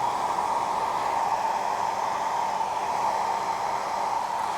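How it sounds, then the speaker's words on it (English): A hair dryer blows steadily on scrunched hair being styled into waves, a loud, even rushing whoosh that holds unchanged throughout without any talking. "letting the dryer do some of the work here to enhance the curl"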